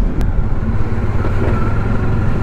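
Loud, rumbling motorcycle engine noise heard while riding on the road to Lavasa near Pune, a steady, close roar mixed with wind buffeting and no voices.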